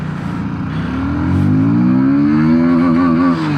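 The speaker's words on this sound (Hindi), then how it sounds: "आपको सुनाता हूँ इसका एग्जॉस्ट साउंड। एकदम ड्यूक 200 वाली आवाज़ है" A KTM Duke 160 motorcycle engine starts and its exhaust rises into a loud, close rev, climbing steadily in pitch and holding high near the end.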